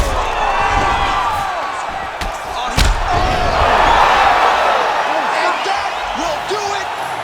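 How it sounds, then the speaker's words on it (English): Arena crowd roaring steadily in EA Sports UFC 5 at the close of a mixed martial arts bout, a dense continuous cheer with a sharp thud partway through and commentary voices over it. "crowd loving it"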